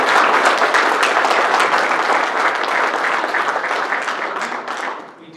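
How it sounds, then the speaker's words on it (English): Audience at an ASHRAE chapter meeting breaks into a dense round of applause, loud and sustained, tapering off over the last second. "if everyone could just give me a round of applause for coming."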